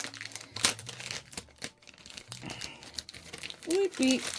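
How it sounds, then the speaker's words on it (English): A Stanley cup is pulled out of its plastic wrapping with loud, bursty crinkling and crumpling of plastic, stopping and starting at irregular moments, close to the listener. "Let me get it out the plastic."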